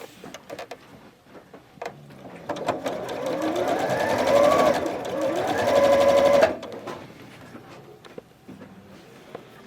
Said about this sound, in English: I'm going to pick this one up and sew it to that side